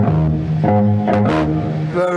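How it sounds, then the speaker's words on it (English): Bass guitar plays a short, steady run of low, rounded notes in a typical style, close and prominent, with no speech. "Well, the basic difference is that most bass players sound like this."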